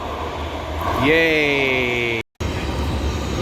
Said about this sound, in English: Finally, a train is approaching.